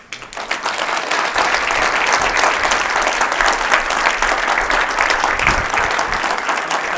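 A large concert audience bursts into dense, sustained applause after an evening performance, loud and continuous with a few crowd sounds mixed in.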